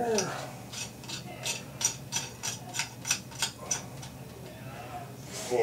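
Ratcheting clicks from a faucet mounting nut being tightened by hand under a bathroom sink, about a dozen evenly spaced crisp ticks, close and fairly faint, with brief talk at the start.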